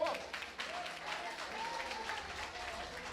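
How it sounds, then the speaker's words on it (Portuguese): A church congregation claps loudly in praise during a sermon, with dense applause and some crowd voices underneath, heard from a distance. "Aplauda o Senhor bem forte."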